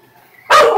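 A single sharp dog bark at a house, loud and close, breaking a quiet background.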